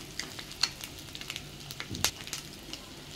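Food fries in oil in a pan until browned, giving a soft crackling sizzle with scattered pops and a couple of sharper utensil clicks, fairly quiet and without voices.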